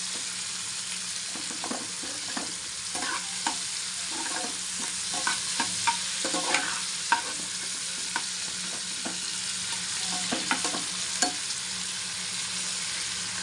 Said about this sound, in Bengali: এবার হচ্ছে এটাকে একটু নাড়াচাড়া করতে হবে